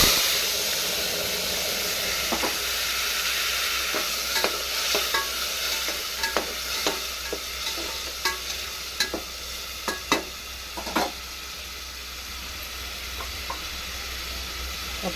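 Tomatoes frying for egg biryani, with a steady loud sizzle and hiss throughout and a run of sharp spoon knocks and scrapes against the pan as they are stirred, close up with no talking.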